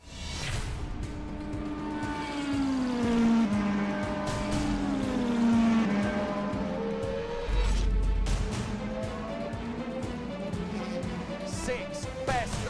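Race cars roar in a sim racing video game during the Mercedes AMG Motorsport eRacing final. Engine notes rise and fall continuously, with tire squeal and cars passing through, under an enthusiastic commentator's voice.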